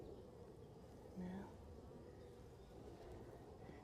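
Honey bees buzzing at an open hive while someone searches the frames for a drone-laying queen, a dense continuous hum with individual bees briefly droning louder close by, fairly faint overall and no talk.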